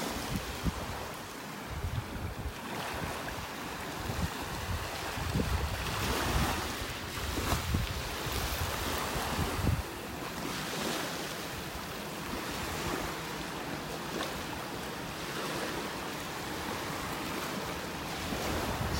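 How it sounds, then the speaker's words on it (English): Gulf of Mexico waves break and wash onto a beach in North Naples, Florida on a morning walk, a continuous rolling surf with rising swells, mixed with steady wind rumble against the microphone. "So peaceful just listening to the waves."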